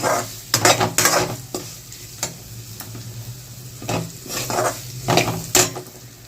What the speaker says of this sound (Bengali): জিরে গুঁড়ো দিয়ে কিন্তু ভালো করে নাড়িয়ে নিলাম